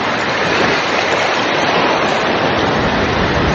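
Cool water flows steadily outdoors on a pretty afternoon, a loud, dense rushing wash that fills the whole clip without pause, with no voices over it.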